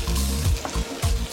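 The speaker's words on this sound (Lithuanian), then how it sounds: "kol kepa svogūnas ir morkos" Onions and carrots fry in olive oil in a pan, giving a steady close crackling sizzle with soft stirring scrapes.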